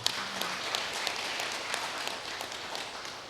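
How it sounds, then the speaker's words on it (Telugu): Audience applause at a spiritual gathering, a faint, distant and sustained patter of many hands clapping. "గట్టిగా చప్పట్లు కొడదాం."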